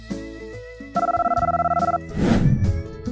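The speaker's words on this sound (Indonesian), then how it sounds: "Suatu malam, Emily mendapat telepon" A telephone bell rings in one steady burst of rapid trilling, loud and close, set against a musical background.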